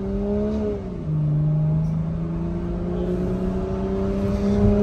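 An MK5 Supra fitted with an Active Autowerke downpipe and a Tomei titanium exhaust rises in engine pitch, dips briefly, then holds a loud, steady drone from inside the car.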